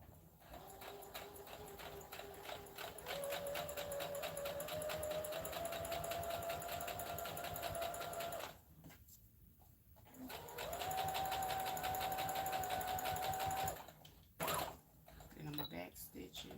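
A sewing machine stitching thick fabric for homemade underwear whirs steadily up close in two long runs, including a back stitch, separated by a short pause, with a brief clack near the end.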